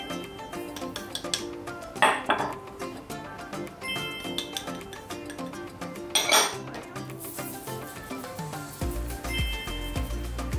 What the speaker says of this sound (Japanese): 粉が複数ある場合は必ずこうやって混ぜて振るってほしくて、1回じゃ全然混ざらないので